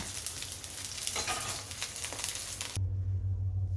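Bata fish rubbed with salt and turmeric frying in oil, a steady close crackling sizzle that cuts off abruptly near the end, leaving a low hum.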